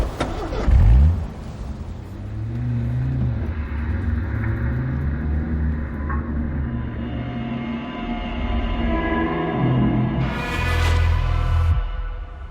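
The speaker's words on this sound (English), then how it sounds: "I slip out to my car and speed away" A car engine revs sharply, then settles into a sustained, rumbling acceleration as the car speeds away, with a second surge of revving near the end; close and loud, with no talking.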